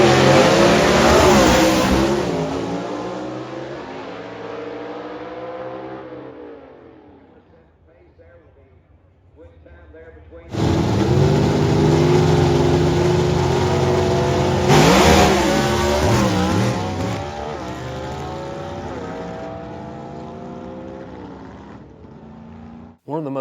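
A big block gasser drag car in A-Gas revs hard and loud in rising bursts, fades away, then roars back with more sharp throttle blips close by.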